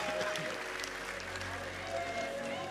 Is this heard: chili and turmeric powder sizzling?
no